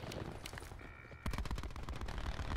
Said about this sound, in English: Oh, they got a sentry gun.